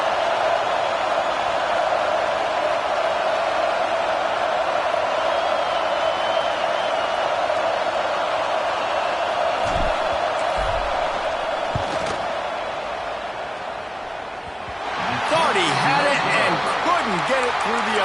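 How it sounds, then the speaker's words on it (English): A stadium crowd at a college football game, FSU vs Alabama, roars before a field goal to distract the kicker. The loud, sustained wall of noise dips briefly near the end, then surges back up. "This crowd trying to do its part to get inside the kicker's head."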